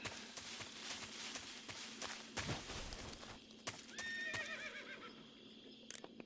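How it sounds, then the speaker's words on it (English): A horse in the Metal Gear Solid 3 video game whinnies and neighs with clip-clop hoof sounds, set against game ambience and sharp clicks, moderately close. "You just heard a horse?"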